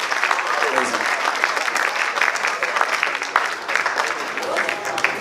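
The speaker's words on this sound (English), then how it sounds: "one more round of applause, ladies and gentlemen" Wedding guests applauding after the speeches, dense lively clapping from a room full of people, close and continuous, with voices mixed in among the hands.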